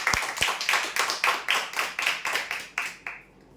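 Rhythmic group clapping greets the winner of a 4x6 bed in a prize draw, about a dozen strong, evenly spaced unison claps heard fairly close, ending abruptly.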